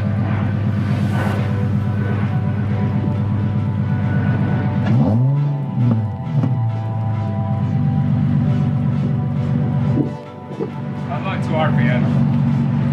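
An Infiniti G37 exhaust with a muffler fitted rumbles and revs at close range, pitch rising and falling across a few throttle blips, while people talk over it.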